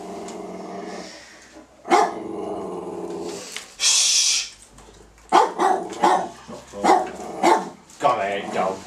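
Dogs bark and growl in repeated loud bursts, some close and harsh, mixed with people talking over them throughout.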